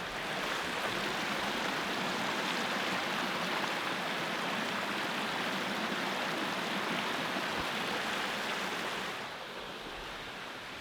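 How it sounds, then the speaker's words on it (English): Steady rushing water of a small waterfall, a continuous broadband roar that softens slightly near the end. "This waterfall looks more impressive."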